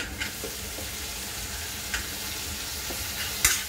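Tomatoes fry with onions in a pan, giving a steady, soft sizzling hiss with a few faint utensil taps and stirs scattered through it.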